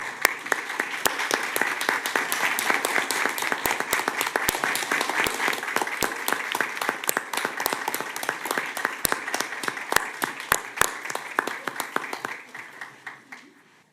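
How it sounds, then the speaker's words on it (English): Standing applause at a city commission meeting in Boynton Beach, Florida, dense clapping from a room full of people that holds steady, then thins into scattered individual claps and fades away near the end. "I want to ask all of you if we could all stand and give a round of applause for Melanie Gaya"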